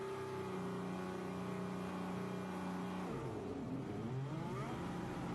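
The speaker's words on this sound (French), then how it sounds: "Procédure de départ pour Pierre Gasly" Formula 1 car at the Losail circuit during Qatar Grand Prix practice, engine droning steadily before a sharp rise in pitch as it launches from a practice start, loud and continuous with no talk.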